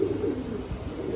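Pigeons coo softly in a loft housing Benarasi Kaldom and homebred pairs, a steady low murmuring that carries on without a break through a short moment, with no voices.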